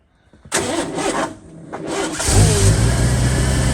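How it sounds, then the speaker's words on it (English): A 1986 Ford F-150 pickup cranks and fires up on a frigid 9-degree morning, with a brief cranking burst, a pause, then the engine catching and settling into a loud, rough, steady run close by. "you think that old truck will start this morning?"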